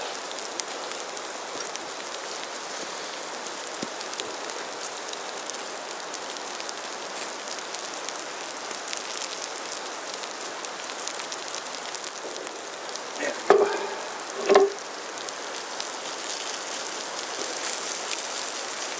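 Meatloaf sides sizzle gently in a canteen cup over low heat, a steady soft crackle and hiss like light rain, with a couple of brief metallic clinks near the end and no talk.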